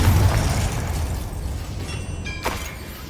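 Confringo fire spell in Hogwarts Legacy, a loud fiery burst that rumbles on, with a sharp crackling flash near the end, close and alone.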